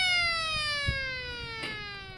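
A siren on a ranch feed truck, used for calling cattle, holds a steady descending wail outdoors with a few faint background knocks.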